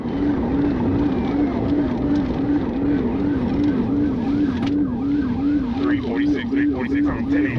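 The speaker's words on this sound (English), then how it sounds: "When the trooper activated his emergency lights and sirens" A police car siren wails in a fast, steady warbling cycle during a high-speed pursuit of a BMW, loud and continuous over road and engine noise, with radio chatter and talk underneath.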